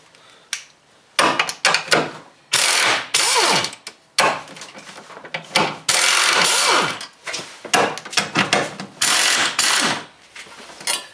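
Ratchet loosening 13 mm bolts on the crossover of a 1999 Pontiac Grand Prix GTP, heard as repeated close, loud bursts of rapid clicking with short gaps and some metallic knocks.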